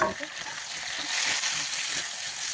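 Tomatoes going into a hot pan with spices while cooking pork, giving a steady bright sizzle and frying hiss with soft stirring scrapes, fairly close.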